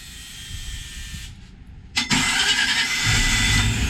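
A freshwater-cooled Volvo-Penta 5.0 marine engine in the open engine compartment of a 2003 Chaparral Signature 300 boat cranks briefly, then catches with a sudden burst and settles into a loud, steady run close by.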